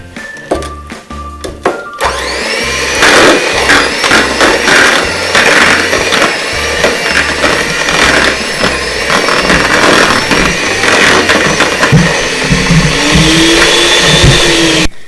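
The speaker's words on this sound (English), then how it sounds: "so we're going to cream our butter first" An electric mixer creaming butter and brown sugar for bourbon molasses cookies runs loud and steady close by, its motor holding a continuous whirring drone for the whole stretch with no talking over it.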